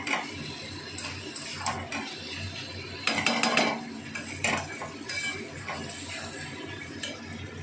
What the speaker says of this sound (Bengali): এবার আমি নাড়াচাড়া করবো ভালো মতো যেন মশলাটা এছড়ের মধ্যে যেন ভেতরে ঢুকতে পারে